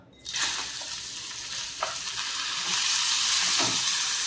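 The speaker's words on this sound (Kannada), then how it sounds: "ಈ ಹೆಸರು ಬೇಳೆ ಹಾಕ್ಕೊಂಡು ತುಂಬ ಹುರಿಯೋದು" Washed moong dal tipped into hot ghee in a pan over low flame sizzles and hisses steadily, with occasional stirring scrapes, close up and growing slightly louder.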